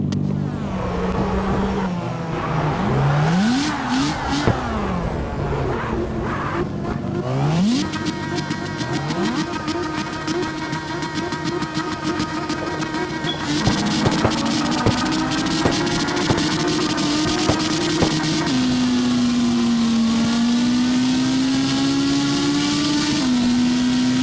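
Mazda RX7 drag build in the racing game CarX Drift Racing Online, its engine revving and climbing through repeated gear shifts, each pitch rise cut off by a drop, then a long pulling high-rpm drone, loud and without talk.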